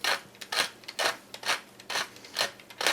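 A pepper mill grinding generously over onion tart filling with nutmeg, giving repeated rasping crunches in a steady rhythm of about six twists, close and fairly loud with no talk.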